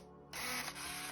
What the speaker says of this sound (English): now you heard a picture was taken